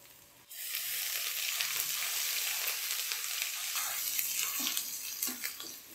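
Ginger garlic paste hits a pan of browned onions and sizzles loudly at once, holding a steady hiss of frying with faint stirring scrapes near the end.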